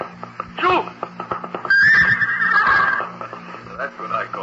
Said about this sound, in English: That's what I call a horse with spirit.